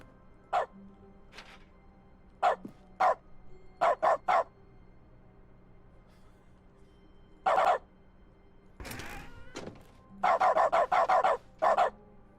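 A video game dog barks in short separate yaps spread out over time, then a quick cluster of rapid barks near the end.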